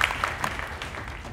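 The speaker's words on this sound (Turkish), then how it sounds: "Bir alkış gelsin Yeşim'e." A game-show studio audience applauds a contestant in a short, moderately loud patter of clapping that fades slightly toward the end, with a few sharper claps near the start.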